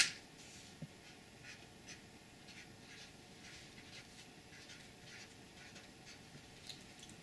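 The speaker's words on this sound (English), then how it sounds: "Next, I'll write a meaningful message on the inside of the card." A pen scratches out a message inside a handmade card in soft, steady strokes, close and faint, with no voices.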